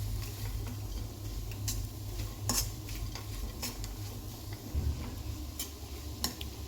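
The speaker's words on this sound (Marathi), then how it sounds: "थोडा शेंगदाण्याचा कूट घालायचा आणि परत एकदा हे सगळं मिक्स करून घ्यायचं आहे" A spoon scrapes and clinks against a pan as a carrot vegetable dish with crushed peanuts is mixed, soft irregular taps and scrapes over a low background hum, fairly quiet.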